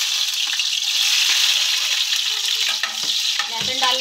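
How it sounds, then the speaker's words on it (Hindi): Chopped garlic dropped into hot oil fries with a steady, close hiss and crackle, loud throughout the short stretch, with a few stirring scrapes near the end. "लहसुन डाल लेंगे हम, लहसुन को अच्छे से फ्राई करेंगे।"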